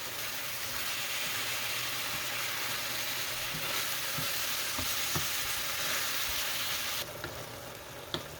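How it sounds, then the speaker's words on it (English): Ground beef and onions frying in a pan, a steady close sizzle filling the whole clip with occasional stirring clicks and scrapes, easing slightly near the end. "After our ground beef starts changing the color, starts cooking"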